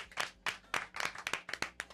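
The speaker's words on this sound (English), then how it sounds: "Well, clap it up for Mr. Joe Jackson." A small group claps in uneven bursts on a talk show phone segment, distinct hand claps close and crisp, loosely rhythmic and fairly quiet, with no talking.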